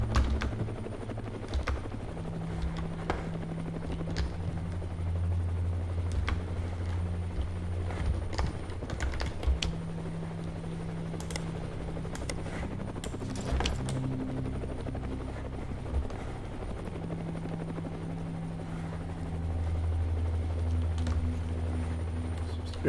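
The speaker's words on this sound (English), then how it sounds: "Oh, is that a fucking helicopter?" Helicopter in the survival video game Next Day: Survival, a steady loud rotor drone with thudding beats that holds through the whole stretch, swelling and fading slightly, with brief clicks and knocks over it.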